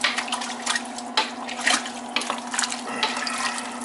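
Water poured into a pan of beef stew in a home kitchen, a steady splashing, gurgling stream close up that runs for a few seconds with small surges, heard alone without talking.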